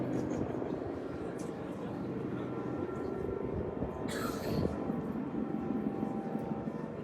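An airplane passes overhead during an outdoor opening ceremony, its low, steady engine drone sustained beneath ambient noise with a brief burst of other sound midway.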